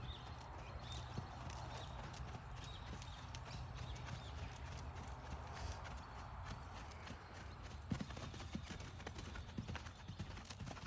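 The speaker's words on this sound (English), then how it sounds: "That was actually a pretty good little canter transition" Horse hooves beat a quick, rolling clip-clop on the ground during a canter transition in a training session, moderately distant and continuous, with a brief snort or whinny-like sound partway through.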